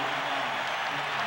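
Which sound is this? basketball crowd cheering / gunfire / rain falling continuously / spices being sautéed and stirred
basketball crowd cheering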